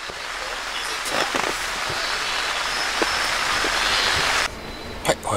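Heavy rain pours steadily at a campsite, a dense, even hiss close around, while someone talks briefly over it and a few faint knocks and rustles come through near the end.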